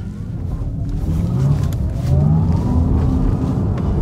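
An Audi RS e-tron GT electric car accelerating, its motor whine rising in pitch over a rumbling road roar, moderately loud and continuous.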